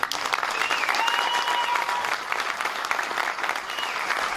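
Audience applause for comedian and actress Melha Bedia at a comedy show, sustained dense clapping at even loudness with faint whoops or whistles above it.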